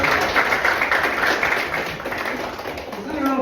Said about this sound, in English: So give yourselves a hand for coming out today.